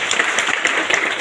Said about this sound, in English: Give claps.